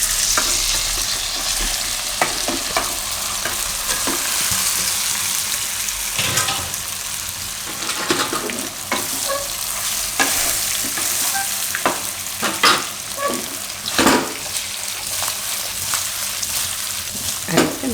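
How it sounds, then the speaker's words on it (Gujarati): Muthiya dumplings sizzle and fry steadily in hot oil with chillies and hing, with scraping stir strokes and occasional louder clatters of the spoon against the pan, close by and continuous, no talking. "હવે એમાં આપણે આ મુઠિયા નાખી દેવું."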